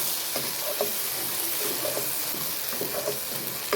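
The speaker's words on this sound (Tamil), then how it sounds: "சேர்த்துட்டு இந்த கலவையை நல்லா மிக்ஸ் பண்ணுவோம்" A lentil sundal mixture is stirred in a hot frying pan, with a steady loud sizzle and repeated soft scraping strokes of a spatula, close up and without voices.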